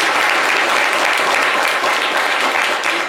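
Studio audience applause on a French-language talk show, a dense, steady wash of many hands clapping loudly and evenly throughout, without voices over it.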